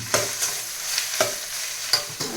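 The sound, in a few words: radish and turmeric frying while being stirred in a pan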